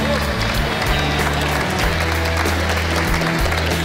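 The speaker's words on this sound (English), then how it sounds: "Slow clap." A crowd gives slow, rhythmic applause at a 2012 Stanley Cup summer celebration with hockey players Kopitar, Nolan, Westgarth and Sutter. The clapping stays fairly loud and dense over a steady low hum.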